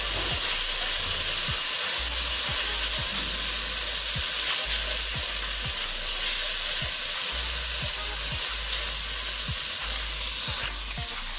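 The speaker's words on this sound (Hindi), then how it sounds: "मटरों को थोड़ा टाइम लगता है, इसलिए पहले इसमें फ्राई कर लेंगे।" Green peas frying in a pan for restaurant-style vegetable fried rice, a loud continuous sizzle with regular stirring clatters every second or so, close up and without speech.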